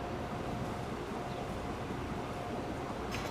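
Steady broadband rumble of a train cruising at full speed in Transport Fever 2, a continuous low roar with hiss that holds even throughout, loud and unbroken with no voices.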